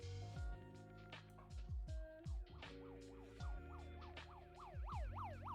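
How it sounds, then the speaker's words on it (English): Stream alert siren sound effect for a subscription, a loud electronic wail that rises and falls repeatedly, punctuated by sharp descending zaps, with warbling sweeps that quicken toward the end. "Sub siren incoming in 3, 2, 1."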